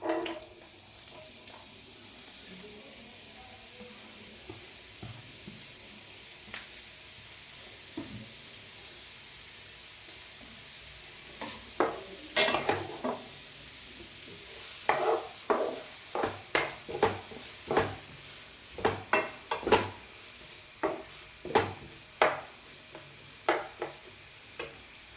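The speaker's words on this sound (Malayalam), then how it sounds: "ഇതെല്ലാം കൂടി ഞാൻ ഒരു പാൻ വെച്ച് ഇതിനകത്തേക്ക് വെളിച്ചെണ്ണ ഒഴിച്ച് കൊടുത്ത് ഇട്ട് കൊടുക്കാം." Onions, garlic, ginger and curry leaves drop into hot coconut oil in a pan, starting quiet and then breaking into a series of sharp crackles and sizzling bursts with stirring, close and moderately loud, with no talking.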